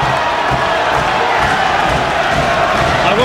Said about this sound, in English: People are thundering their applause for Clinton Woods.